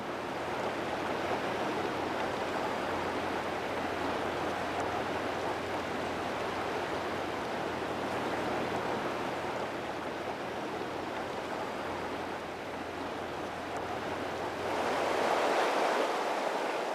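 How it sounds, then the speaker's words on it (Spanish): The Dunajec river flowing through the landscape, a steady broad rush of water that holds at an even level throughout and swells a little louder near the end, with no voices. "A través de este paisaje discurre el río Dunajec"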